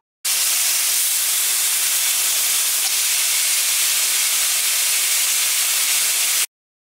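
Korean-style galbi beef ribs sizzling on a hot grill while cooking on one side, a loud, steady, unbroken hiss that starts abruptly and runs evenly throughout before cutting off.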